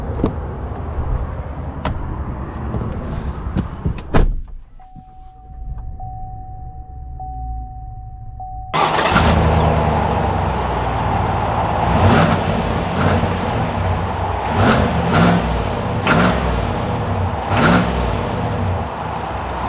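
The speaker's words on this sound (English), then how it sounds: "let's take this truck out and see how it drives" A 2021 Chevy Silverado 1500 High Country pickup starts after a quiet pause, then drives steadily with a loud, continuous rumble and occasional clunks and knocks.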